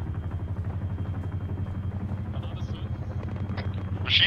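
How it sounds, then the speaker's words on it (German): Russian helicopter in the ArmA 3 video game, a close, steady rotor chop thudding rhythmically throughout, with brief sharp noises near the end. "Das hört sich nach russisch an. Ja, russischer Helikopter."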